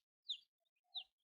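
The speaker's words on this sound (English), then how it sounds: "One of those chicks is very loud." A loud baby chick peeps twice in a quiet room, two sharp high chirps about half a second apart, with nothing else audible.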